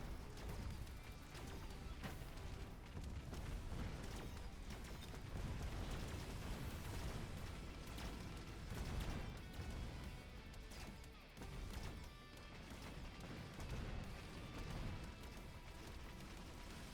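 Heavy cannon fire and explosions in a tank-battle video game, a continuous dense roar of crashing blasts and booms that stays loud and unbroken with no gaps.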